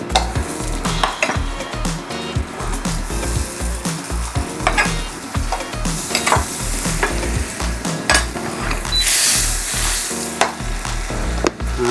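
Butter sizzles loudly in a hot pan with piri-piri seasoning and paprika, a steady close frying hiss under repeated scraping stirs and low knocks of a utensil, with no voices.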